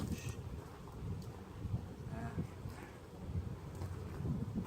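Outdoor wind buffeting the microphone, a steady rough low rumble that swells and eases throughout, with faint higher rustling on top.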